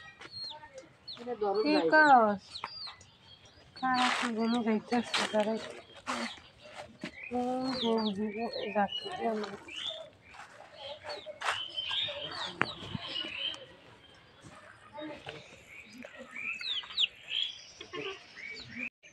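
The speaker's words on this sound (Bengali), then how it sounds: "এই মুরগিটাকে ধরবো" Chickens cluck and squawk close by on a family chicken farm, with bursts of agitated calls throughout. People talk over and between the birds.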